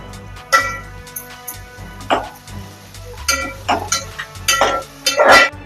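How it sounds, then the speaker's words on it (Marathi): Bell pepper, carrot and spring onions being stirred in a pan for hakka noodles, with a spoon clinking and scraping against the metal in several short bursts, alone and fairly close. "ढोबळी मिरची आणि गाजर टाकून घेऊया कांद्याचे पात टाकून घेते ढवळून घेते"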